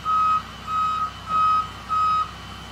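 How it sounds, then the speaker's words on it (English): A truck reverses in under a POD storage container to lift it, its backup alarm giving four steady, evenly spaced beeps, loud and close over a low engine hum. "there's the truck backing in and under"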